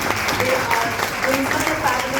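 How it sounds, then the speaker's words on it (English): An audience at a Chandigarh literary society event honouring special mothers claps in a dense, sustained round of applause, loud and even throughout its short span. "give loudest round of applause for this special"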